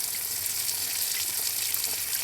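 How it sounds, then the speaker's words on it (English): Water hissing and rushing steadily as a valve is opened to slowly refill an underground water service line at a repaired break, a constant close broadband flow with no talk. "I will go ahead and crack open the service line and slowly feed water into this"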